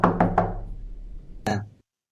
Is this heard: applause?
no